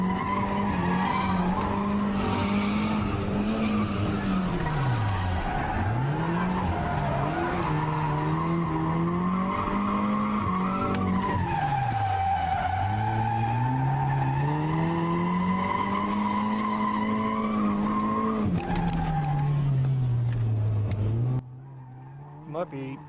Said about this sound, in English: he really has to flick the car to get it drifting